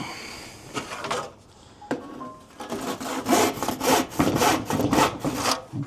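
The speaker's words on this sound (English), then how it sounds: "I think I'm in need of a new handsaw." A handsaw cuts through wood during the conversion of a built-in cupboard, producing close, steady back-and-forth rasping strokes that grow louder and more regular after a brief pause, with no talking.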